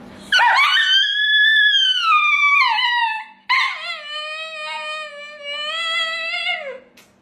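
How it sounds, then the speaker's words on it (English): A dog answers a person's barking with long, loud howls that bend down in pitch, then a second drawn-out whimpering howl, clear and close. "Bark at your dog to see their reaction."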